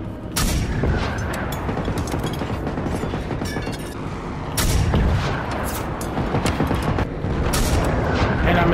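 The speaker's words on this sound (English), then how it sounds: "these are smoke rockets" Smoke rockets fire and burst in a video game boss fight, a dense run of loud booms and blasts that keeps going across the clip, with one heavier impact near the middle and a louder stretch after it.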